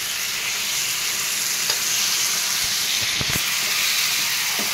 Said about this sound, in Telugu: ఆ చికెన్ వేసేద్దాం